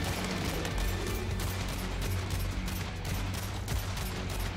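Rapid automatic gunfire in the video game Agents of Mayhem, a dense continuous fusillade of loud shots and mechanical clatter with heavy low rumble throughout.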